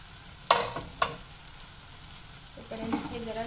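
Masala fries in a pan while someone stirs it. Two sharp scrapes of a utensil stand out over a low sizzle, and a brighter sizzle rises near the end.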